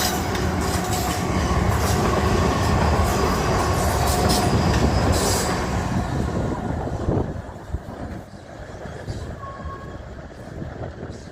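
A Class 444 electric passenger train passes close by with a loud rolling rumble and rhythmic wheel clatter, then fades into quieter trackside ambience with faint squeals.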